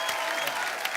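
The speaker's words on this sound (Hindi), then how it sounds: "पहले रेमो सर के लिए जोरदार तालियां हो जाए" Studio audience on a comedy show applauding, a dense, steady wash of clapping filling the brief moment, loud and continuous.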